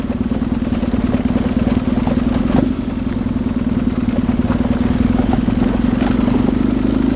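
A BMW R 1150 GS boxer-engine motorcycle being ridden, its engine giving a steady low drone throughout, close and loud, with a brief dip in the middle and faint clatter over the top.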